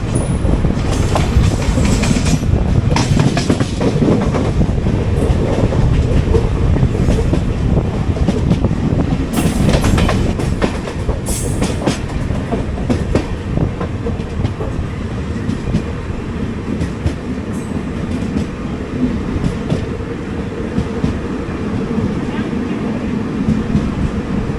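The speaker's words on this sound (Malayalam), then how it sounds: "നമ്മൾ ജസ്റ്റ് തിരുവല്ല സ്റ്റേഷനോട് കയറിക്കൊണ്ടിരിക്കുന്നു." Loud, continuous rumble and clatter of the Garib Rath Express rolling into Thiruvalla station, heard from on board, with rhythmic wheel clicks over the rails and a few brief squeals, no talking.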